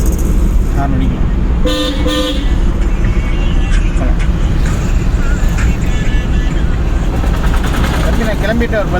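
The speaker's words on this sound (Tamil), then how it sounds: "ஹார்ன் அடிக்கலாம்." Car horns toot briefly a few times in traffic during a driving class, heard over steady road and engine noise with people talking.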